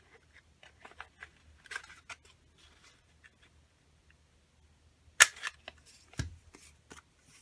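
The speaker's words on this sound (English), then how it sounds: "I'm going to cut a little hole in that." Scissors cut a small hole in paper for a Christmas journal pocket: faint, sparse snips and paper rustles in a quiet room, with one sharper click near the end.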